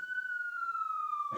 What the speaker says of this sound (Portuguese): a sirene tocando